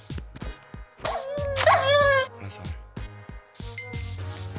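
A Minecraft dog whimpers and yips with a few short barks, game-like, mixed with clinks and other effects and some speech around it.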